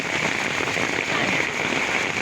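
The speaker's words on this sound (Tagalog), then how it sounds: "hangin ulan na may kasamang hangin" Heavy rain driven by strong wind beside the Marikina River makes a steady, dense hiss that stays loud and constant from start to end.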